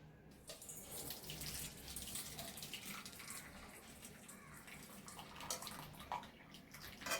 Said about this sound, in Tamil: கொஞ்சம் தண்ணி எக்ஸ்ட்ரா ஆயிடுச்சுன்னு நம்ம வடிகட்டிக்கலாம்.